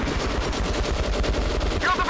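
Dense, rapid gunfire from the video game Metro Last Light, with loud overlapping bursts that run continuously and close throughout.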